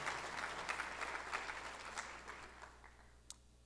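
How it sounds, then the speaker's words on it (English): An audience at a community safety meeting claps for a city alderman in a moderate, broad patter of applause that slowly thins and fades toward the end, ending with a single sharper clap. "Could you give him a round of applause?"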